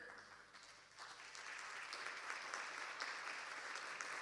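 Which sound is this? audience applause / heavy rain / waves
audience applause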